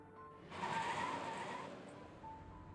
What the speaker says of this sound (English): A truck appears out of nowhere, coming to a screeching stop in their path.